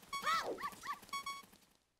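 A dog in the video game The Legend of Zelda: Ocarina of Time barks several times in quick succession, a synthetic, clean game sound effect standing alone and fading out.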